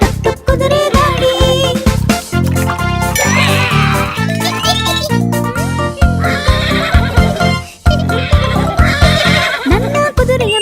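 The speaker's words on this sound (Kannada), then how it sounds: "ನನ್ನ ಕುದುರೆಯು ಹೀ ಎನ್ನುತ್ತ ಕೆನೆಯುವುದನ್ನು ಕೇಳುತ್ತಿರು" A cartoon horse neighs amid a loud, busy musical song with jingling bells and rhythmic hoof-like beats running continuously throughout.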